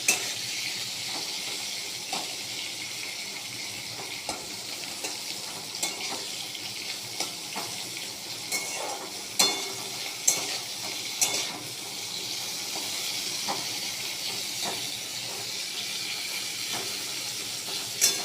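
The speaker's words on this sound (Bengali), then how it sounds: "পটলগুলো ভালো করে ভাজবো।" Pieces of pointed gourd (potol) frying in a pan: a steady bright sizzle and hiss throughout, with occasional soft clinks and stirring scrapes, close and continuous.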